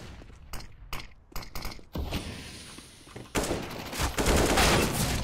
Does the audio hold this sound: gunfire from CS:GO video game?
yes